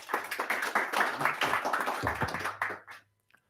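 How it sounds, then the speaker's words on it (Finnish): An audience applauds for Julius after a startup pitch at a construction-industry pitching event, with brisk clapping from a modest group that fades out within about three seconds. Some voices mix in. "Aplodit vielä Juliukselle."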